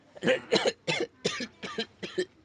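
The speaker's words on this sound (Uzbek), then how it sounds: "bir yo'tal kelib qoladida har har zamonda" Repeated coughing, about six rough bursts in steady succession over a couple of seconds, close and fairly loud with short pauses between them and no other talk.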